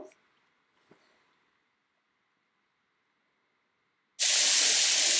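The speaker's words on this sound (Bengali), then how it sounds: "আর এখানে রান্নার জন্য আমি অলিভ অয়েল দিয়ে দিয়েছি আর পেঁয়াজ কুচি দিয়ে দিয়েছি একটু শটে করে নিব" Chopped onions sizzle in hot olive oil, a loud steady hiss that starts abruptly after a few quiet seconds of faint kitchen clatter and a low background hum.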